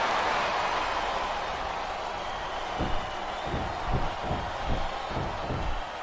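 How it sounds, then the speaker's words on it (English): A wrestling arena crowd in the WWE Smackdown vs RAW 2008 game roars as a broad steady wash of noise, with faint rhythmic claps or stomps building toward the end. "Sounds like this crowd's got something on their minds, King."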